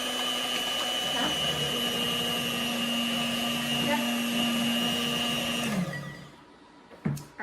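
A kitchen stand mixer whirs steadily as it creams peanut butter blossom cookie dough, a loud constant motor hum that winds down and stops near the end, followed by a brief clunk.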